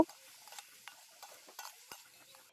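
Onions with salt and turmeric frying in oil over an outdoor stove built from a steel bowl. A spatula stirs them with faint, sparse scrapes and ticks over a soft low sizzle, quiet and close, with no talking.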